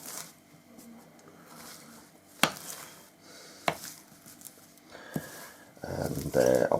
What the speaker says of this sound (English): I'll just chop this up coarsely.